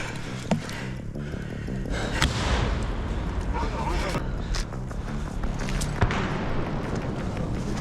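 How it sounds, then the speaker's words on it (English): Gunfire and grenade blasts during trench combat in the war in Ukraine, heard as sharp cracks and bangs at irregular intervals over a dense, noisy battlefield background, with people talking throughout. "They threw grenades into each trench and then entered."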